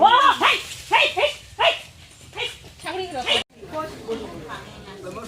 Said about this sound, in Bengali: একটা কুত্তা